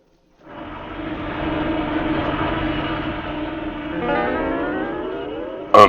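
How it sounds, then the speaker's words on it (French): An airplane engine drones steadily, rising and holding for several seconds before a sharp click cuts it off. "Un avion."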